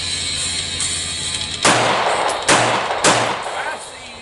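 Three loud, sharp gunshots from an AK47 rifle or Glock 19x pistol at an outdoor shooting range, spaced unevenly a second or less apart, each with a short ringing tail over a faint steady background hum.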